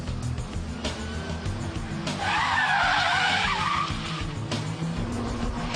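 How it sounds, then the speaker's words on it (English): A front-wheel-drive car performs a Scandinavian flick into lift-off oversteer. Its tires squeal loudly through the middle of the skid over a constant engine rumble, with sharp knocks at the start and end. "the Scandinavian flick followed by lift-off oversteer"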